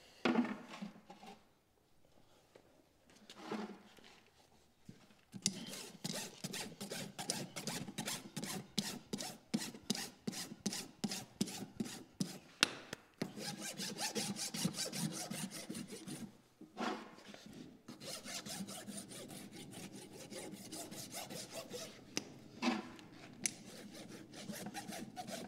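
Rasp filing a horse's hoof during a trim, a long run of quick, regular scraping strokes close up, pausing briefly a few times before the rhythmic rasping resumes.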